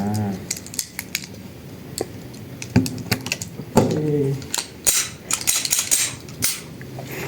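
Firearms go off at an outdoor shooting range in Laos, giving a series of sharp, cracking reports at irregular intervals, some single and some in quick clusters, with faint voices between the shots.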